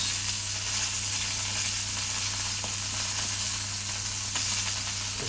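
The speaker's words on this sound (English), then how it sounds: "Sizzling my ducklets." Steady, dense sizzling of duck frying in a hot pan on an induction hob, continuous and close, with faint occasional stirring noises and no talking.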